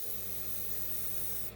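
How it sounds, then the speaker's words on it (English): A steady, continuous hiss of aerosol spray paint coating hydrangea flowers, close and sustained, with a faint mechanical hum underneath. "the backs I just spray all in one colour"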